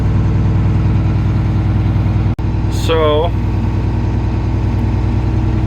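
An old farm tractor engine idles steadily and loudly throughout, with a person speaking briefly over the constant mechanical drone.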